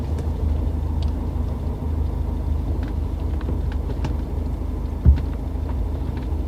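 A car engine idles steadily, its wheels turned toward an asphalt lane: a loud, close, continuous low rumble with one brief knock near the end.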